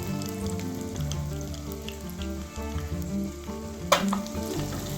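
An egg frying in a pan, a continuous crackling sizzle with scattered pops and one sharper clink partway through, fairly close and steady, with faint background music underneath.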